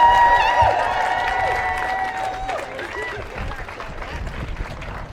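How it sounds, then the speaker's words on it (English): Protesters at a London rally against the Tories and DUP clap and cheer as a crowd, loudest at first then tapering over several seconds, with scattered whistles, shouts and nearby babble throughout. "can we give yourself a round of applause to just turn it out?"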